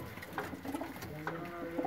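A black pigeon gives soft, low coos in close, quiet succession, with faint background rustle and no talking.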